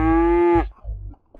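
A single loud cow moo in a mascot horror video game, drawn out for about half a second and then cut off into quieter rumbling game noise.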